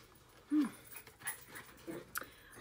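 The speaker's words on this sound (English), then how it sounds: "Don't mind my dogs." Dogs pant softly nearby and let out a brief high whimper, with faint scuffling and small yips in a quiet indoor room.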